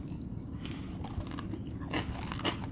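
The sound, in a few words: biting and chewing crunchy burnt oil-free hash browns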